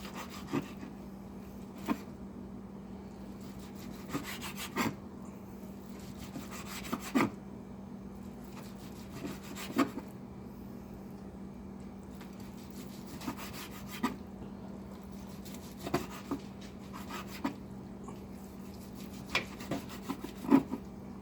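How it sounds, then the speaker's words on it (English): Knife slicing thin pieces of tender smoked meat, a series of short rasping strokes repeating roughly every two to three seconds, close and fairly quiet, with faint background hum. "Get some good thin slices."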